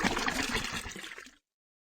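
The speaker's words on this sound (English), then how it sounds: "Pour the dew into the container." Collected dew pours into a container in a cartoon game: a bright, splashy stream of liquid runs for about a second and a half, then stops abruptly.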